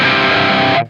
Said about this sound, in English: If I want like a crazy, super overdriven metal sound